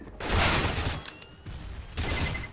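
Gunfire in Counter-Strike: Global Offensive on the B side of Cache, with a loud burst of shots at the start and another sharp burst near the end, separated by quieter mechanical clatter.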